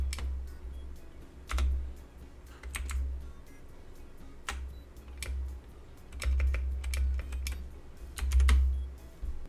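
Typing on a computer keyboard, irregular bursts of close keystrokes with brief pauses between, fairly quiet and alone.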